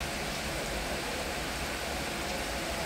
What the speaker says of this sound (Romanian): cred că auziți și voi cum plouă